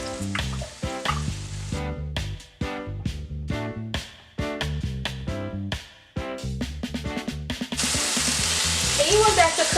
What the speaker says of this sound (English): Now that the onions are partially translucent, I'm gonna add my saltfish.